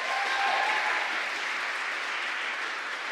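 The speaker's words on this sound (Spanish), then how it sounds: "¡Fuerte el aplauso!" Steady, dense applause from a crowd at a regional school oratory competition in Herrera province, Panama, loud and continuous throughout with no break.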